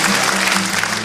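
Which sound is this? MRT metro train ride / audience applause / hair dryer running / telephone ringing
audience applause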